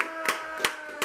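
A lone person claps a few sparse, evenly spaced times on a talk show set, close and fairly soft, over a steady background hum.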